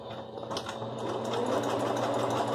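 A sewing machine stitches a quilted patchwork table runner with small, tight stitches. It makes a close, steady mechanical whir with a fast rhythmic ticking that runs without a break.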